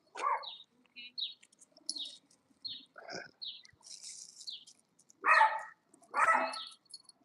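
Small dog yapping up close in short, sharp barks that come in uneven bursts, with a few louder barks near the end and quiet gaps in between.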